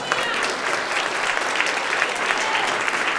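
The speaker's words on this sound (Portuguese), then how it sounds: "Quantos podem aplaudir o Senhor?" Steady, dense applause from a large church congregation, clapping continuously at an even level throughout.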